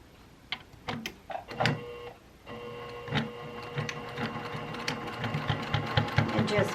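Sewing machine stitching matched fabric corners together for a Valentine table centerpiece, a close, steady mechanical whir running in several bursts with short pauses, then a longer continuous run.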